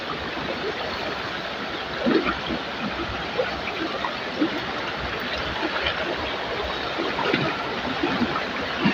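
A stream flows steadily with a continuous broadband rush and scattered small splashes, close and even throughout, with no talk over it.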